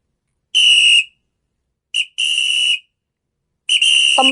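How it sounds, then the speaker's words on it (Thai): Three sharp, shrill whistle blasts, the first short, then a longer one after a quick chirp, and a final blast, loud and close with silence between. "จากเสียงเป่านกหวีด"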